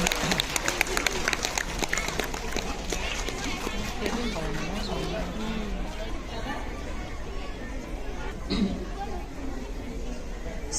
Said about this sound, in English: Let's give a round of applause to welcome our chief guest